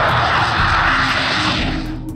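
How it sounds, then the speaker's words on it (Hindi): A Turkish KAAN fighter jet in flight on its maiden test flight, a loud, steady engine roar that holds throughout and eases slightly at the end, with no talk over it. "कान फाइटर जेट सुपरसोनिक स्पीड रखता है।"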